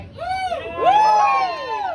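Comedy show crowd answering a comedian's call with a loud, sustained wave of cheering and whooping that swells midway and holds, with shouts and a few higher voices rising above the mass.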